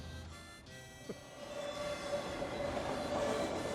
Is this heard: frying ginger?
no